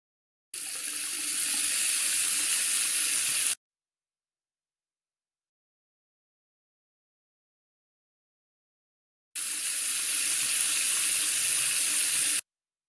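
Water gushes steadily from a tap in two separate bursts of about three seconds each, close and fairly loud, with silence between them and no talk.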